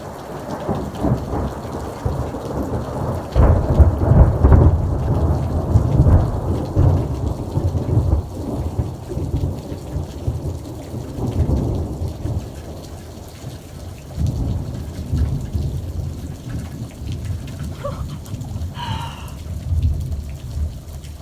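A thunderstorm with steady, heavy rain pouring down and deep rumbles of thunder rolling in and swelling, loud and close throughout.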